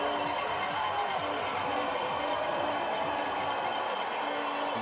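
Crowds of ski fans cheer along the course of a women's 20 km freestyle mass-start cross-country ski race at Lake Placid, USA, making a steady, dense roar with voices mixed in.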